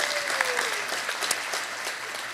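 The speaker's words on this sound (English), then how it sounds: "round of applause for Officer Irwin" Audience applause aboard the USS Midway Museum honoring Navy Petty Officer Ryan Irwin: steady, dense clapping from a crowd that holds at an even level throughout, with no voices standing out.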